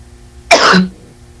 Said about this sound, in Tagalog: Isa pang ubo ma'am.